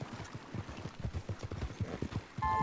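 Horse hooves clip-clopping in Red Dead Redemption 2, a steady walking rhythm of close, moderately loud hoof falls, with a brief soft tone near the end.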